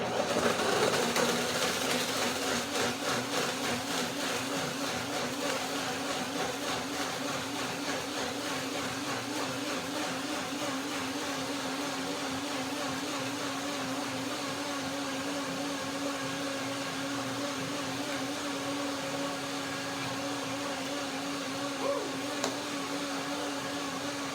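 A kitchen blender runs steadily through dates, cashews and banana with a splash of water for a date cashew banana smoothie, a loud continuous motor whir with a wobbling pitch that holds unbroken throughout.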